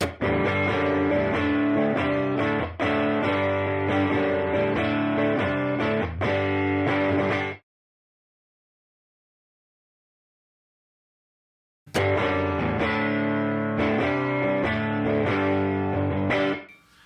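Driven electric guitar chords played through a UAFX Woodrow amp pedal, loud and close, stopping for a few seconds of silence before the pattern resumes.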